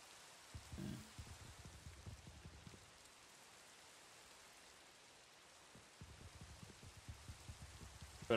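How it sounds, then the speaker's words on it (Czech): Rain falling in the video game Minecraft (Sky Factory 3 modpack), a faint, steady patter with light drop ticks that fades briefly midway before returning, with no talk. "A prší."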